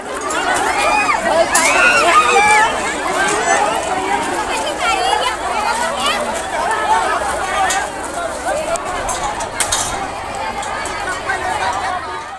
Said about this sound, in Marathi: नियोजन चुकल्याने गर्दी होऊन चेंगराचेंगरीची स्थिती निर्माण झाल्याचं